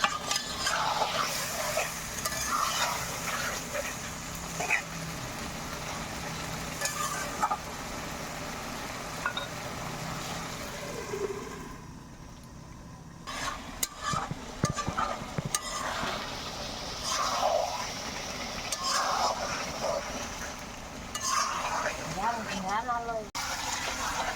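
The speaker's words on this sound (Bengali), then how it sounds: "কিছু সময় আমি এভাবে ঢেকে ঢেকে মাছটা কষিয়ে নেব।" Pangas fish sautéing in a pan that is covered and uncovered, giving a steady close sizzle and frying crackle with a quieter stretch partway through and a few clatters of the lid and utensils.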